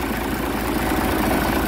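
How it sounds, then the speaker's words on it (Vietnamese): A Yamaha 230 hp outboard boat engine idles with a loud, steady, even rumble that continues without change and without talk. "Máy nổ rất là êm, không có khói trắng gì hết"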